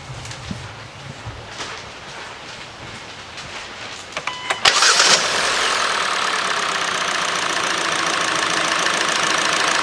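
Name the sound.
Kia or Hyundai car engine starting up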